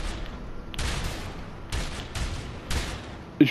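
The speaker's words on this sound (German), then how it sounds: "Ich geb ihm mehrere Headshots" Several bursts of gunfire from the video game A Way Out, spaced out over a few seconds, with a sharper, louder shot near the end.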